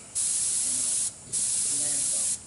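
Airbrush spraying paint in two steady hissing bursts of about a second each, close and clear, separated by a short quiet pause.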